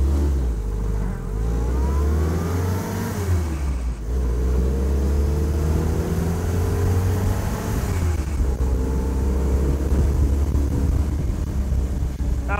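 A 77-year-old Willys jeep drives along, its engine droning steadily and rising and falling in pitch through gear changes, heard close and continuous for the whole stretch with road rumble underneath.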